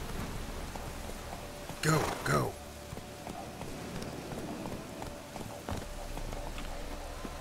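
Roach the horse running in The Witcher 3, a short burst of hoofbeats near the two-second mark against a quiet outdoor ambience with faint patter, then scattered softer steps.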